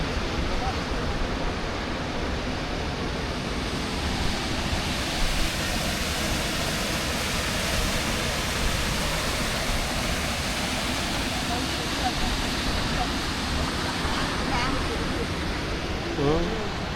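A waterfall on a forest river near Vancouver, British Columbia, gives a steady, loud, broadband roar of rushing water that stays continuous without pause.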